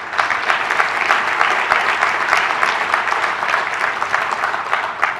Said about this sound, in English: So let's get a big round of applause for our sponsors.